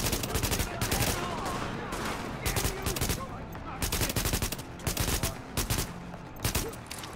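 Rapid bursts of automatic gunfire crack out in Tom Clancy's The Division, sharp repeated volleys in clusters with short pauses between them, loud and close, with faint talk in the background.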